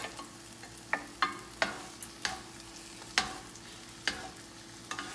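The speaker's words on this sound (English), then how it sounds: "Fry this a little bit. And then we just stir it a couple more times." Onions and cheese fry in a pan with a soft, steady sizzle while a utensil stirs them, making a series of sharp scraping taps about every half second, quiet and close.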